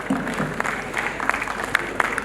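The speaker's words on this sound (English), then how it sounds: "Let's applaud them for their remarkable achievement and dedication." An audience claps at a school annual day celebration, a short burst of scattered, moderately loud applause from a crowd.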